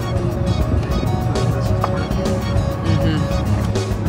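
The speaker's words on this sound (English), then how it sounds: "This is the type of town you need to live in when the tractors just use the main street." Farm tractor rolling along the main street of a small Alberta town east of Edmonton, a steady low engine drone with broadband road noise, fairly close and continuous throughout.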